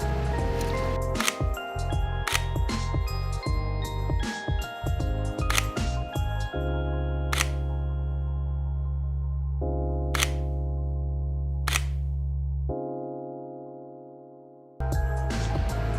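Several crisp shutter clicks from a camera fitted with a Neewer 32mm f1.6 manual focus lens fire in an irregular series, a quick cluster early on and then spaced single shots over a steady low hum.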